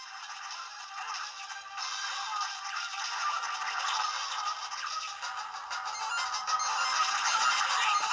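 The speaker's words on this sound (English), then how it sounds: "Every time it tells you to go, it starts making that chiming noise" A Powkiddy Q90 retro gaming handheld running Gunstar Heroes for Game Boy Advance gives off a bright, repeating chiming notification, a steady high ringing that continues for several seconds with no talking.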